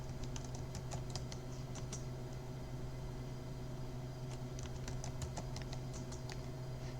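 Computer keyboard keys tapped in bursts while a root password is entered at a Linux login prompt, two clusters of quick clicks over a steady low hum.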